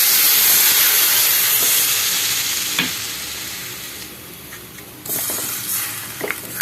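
Water hits a hot pan while thakkali amti, a tomato curry, is being cooked. A loud sizzling hiss bursts up and gradually fades, broken by a few clinks of stirring.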